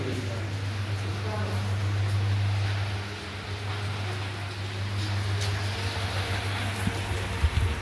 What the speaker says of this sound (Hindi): बाहर अभी बहुत ज़्यादा बारिश हो रही है।